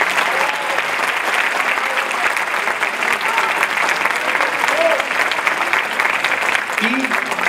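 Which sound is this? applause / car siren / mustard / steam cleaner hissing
applause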